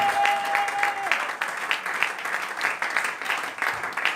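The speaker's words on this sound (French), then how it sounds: "tu vas acclamer très fort cette parole" A church congregation bursts into sustained, lively applause, many hands clapping close and loud in a continuous rippling wash with no voices on top.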